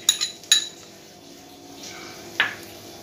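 A spoon clinks against a metal pot while stirring payasam, with several sharp taps near the start and one more toward the end, over a faint liquid swish.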